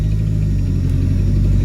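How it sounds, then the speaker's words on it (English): A Dodge Neon with an exhaust leak runs close by, a loud, steady low engine rumble with a faint puffing texture throughout, no talking. "You can hear that exhaust leak."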